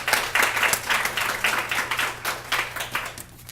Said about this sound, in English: let's give Hema another round of applause